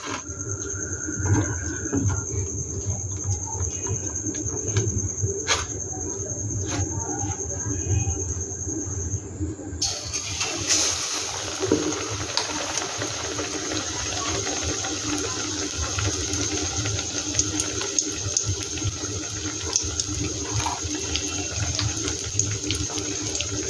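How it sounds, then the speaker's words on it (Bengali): Battered chicken rolls wrapped in Malabar spinach leaves, with a batter spiced with Kashmiri chilli powder and kasuri methi, fry in hot oil. A steady, close sizzle and crackle grows busier about halfway through, with no talking. "বড় বড় তো দুটো দুটো করেই ভাজতে হবে আমার"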